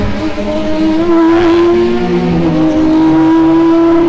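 Formula 3 race cars, Dallara F317s, one with a Mercedes engine, run through a chicane at Kirkistown circuit, loud steady engine drone with shifting pitch as they brake and accelerate through.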